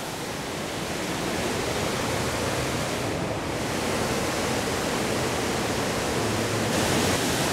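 A small creek flowing steadily, a continuous broadband rush of water with no pauses, fairly close and uniform throughout.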